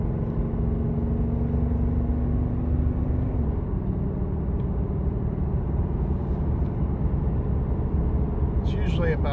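A car engine drones steadily while driving, its tone dropping partway through as the throttle eases off, on a car with a hesitation near 40–45 mph that needs its idle control valve cleaned.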